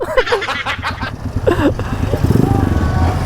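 Voices chatter and laugh up close while an RC250 motorcycle engine idles and rumbles steadily underneath, growing more prominent toward the end.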